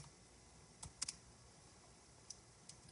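A handful of light keystrokes on a computer keyboard enter a command, sounding as a few scattered, quiet clicks close by over a faint background hiss.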